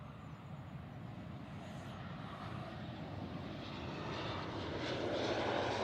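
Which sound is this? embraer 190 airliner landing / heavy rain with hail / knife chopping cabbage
embraer 190 airliner landing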